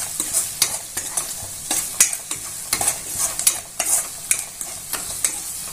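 A spoon stirring sugar and salt through homemade pizza sauce in a hot pan, repeated scraping strokes in an uneven rhythm over a soft sizzle, close and clear with no talking.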